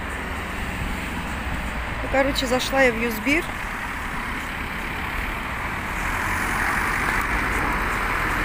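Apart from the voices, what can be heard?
street traffic while crossing a road in Mersin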